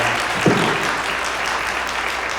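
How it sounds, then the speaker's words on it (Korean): Wedding guests applaud in a hotel grand ballroom right after the couple is declared married, a loud, even sheet of clapping that holds steady throughout. "여러분 축복의 박수를 전해주시기 바랍니다"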